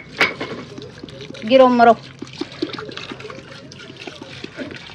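Water pours into a cooking pot holding lentils and chicken, a short splashing gush under a woman's chatter, followed by faint clinks and trickling.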